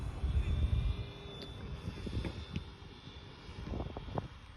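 A small RC helicopter flies past outdoors, its spinning propellers and motor making a steady, fluttering whine that rises and fades with a few louder swells over wind noise.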